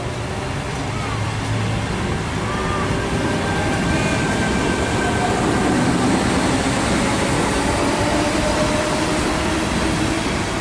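Passenger train pulling away from a suburban station platform on a Central via Gordon service, a continuous broad rumble and hum that holds steady across the clip, with faint tonal whines riding on top.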